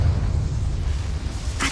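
A Confringo fire spell blast in Hogwarts Legacy, a loud sustained rumbling boom with deep low roar throughout, ending in a brief bright whoosh.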